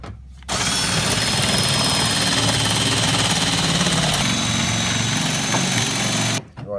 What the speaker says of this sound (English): So you'll take your electric snips,